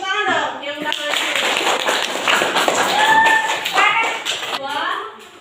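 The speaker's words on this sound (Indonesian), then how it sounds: "Tepuk tangan dong yang udah ngasih." Elementary school students clapping together in a classroom, a burst of dense applause that rises and fades over a few seconds, with children's voices and chatter mixed in.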